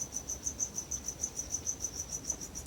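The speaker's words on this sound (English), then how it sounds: "those crickets are extremely loud" Crickets chirp in a steady, rapid pulsing rhythm, loud and close, with no other sounds.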